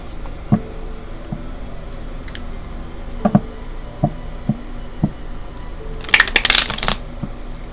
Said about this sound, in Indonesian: baik, kita shuffle dulu kartunya.